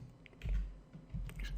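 Typing on a computer keyboard while entering a PHP and MySQL login script, a few soft, close clicks and taps in short bursts at low volume, with no talk.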